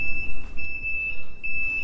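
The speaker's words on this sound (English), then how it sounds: "added a very loud buzzer which helps me remember they're on and pedestrians know I'm turning." A loud, continuous high-pitched turn-signal buzzer on a Lambretta SIL GP125 scooter sounds steadily, pulsing slightly, over the rumble of the moving scooter and road noise.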